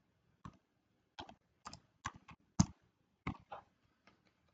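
Computer keyboard typing a product description: sparse, soft key clicks in small clusters, a few taps at a time with short gaps, close and quiet.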